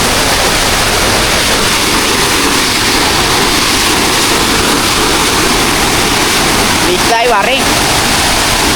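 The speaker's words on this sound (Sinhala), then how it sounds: "නෝ අපේ ඇල්ල බේන්නේ බලන්න." Rushing water from a waterfall pours in a loud, constant roar, while someone speaks briefly over it near the end.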